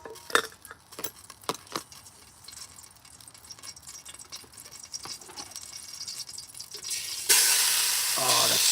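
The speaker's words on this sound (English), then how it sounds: "We'll fry that chicken off." Chicken pieces go into hot fat outdoors, with clinks and scraping of utensils at first, then a loud steady sizzle of frying that bursts up near the end.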